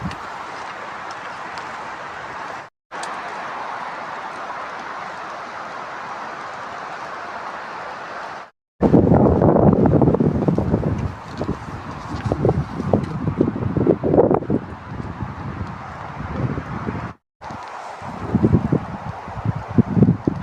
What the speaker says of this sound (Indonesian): Angin terasa berhembus makin kencang